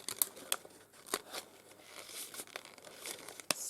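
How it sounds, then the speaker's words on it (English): Scissors snipping a straw or lolly stick, with several small sharp clicks and crinkly rustles, close and quiet, spread unevenly across a few seconds. "you could cut down with the scissors a little snippet"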